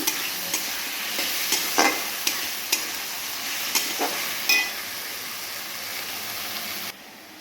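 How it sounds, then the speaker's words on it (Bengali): Mustard-poppy seed and green chilli paste frying in a pan, a steady close sizzle broken by repeated sharp scrapes and taps of a spoon stirring, ending with a drop in level near the end. "ভালোভাবে মশলাটাকে কষিয়ে নিচ্ছি।"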